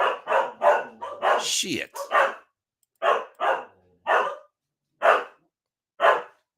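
Dogs bark loudly and close by in a string of sharp, separate barks, spaced out with pauses, while a person briefly mutters a word early on.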